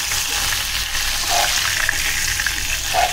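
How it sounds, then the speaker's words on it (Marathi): Prawns frying in very hot oil for a Malvani prawn dish, a steady close crackling sizzle with bubbling hiss that runs without a break. "तेल कडकडीतच पाहिजे म्हणजे ते छान असे क्रिस्पी होतात"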